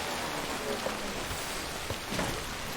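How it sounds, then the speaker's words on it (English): Timefall rain falls in the video game Death Stranding, a soft steady hiss of light rainfall with a few scattered drop spatters, fairly quiet and continuous, with no voices. "Rain's a little lighter here"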